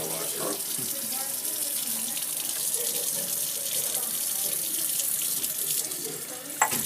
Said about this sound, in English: when he added the distilled water into the beaker